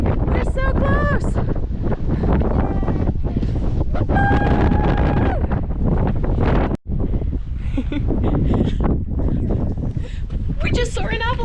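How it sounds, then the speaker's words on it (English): Strong wind on a mountain near Mueller Hut buffets the microphone in loud, continuous rumbling gusts, while people talk throughout over the blustery noise. "It is a bit windy."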